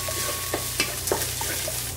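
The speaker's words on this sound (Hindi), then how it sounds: "और अब मिक्स वेजिटेबल डालेंगे, इसमें कॉर्न और ग्रीन पीस और गाजर।" Precooked mixed vegetables of corn, green peas and carrot are stirred in a pan, giving a soft steady sizzle with a few light scraping stir strokes, close and fairly quiet.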